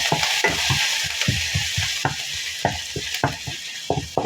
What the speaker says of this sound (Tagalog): Ayan, maggigisa na po tayo ng munggo.